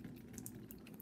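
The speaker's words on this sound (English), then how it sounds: "So, you pour in the hot water." Hot water pouring into a container in a kitchen, a soft, steady trickle that is faint and brief.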